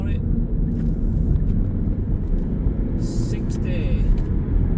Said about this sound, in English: So third gear, put the foot down, floor it.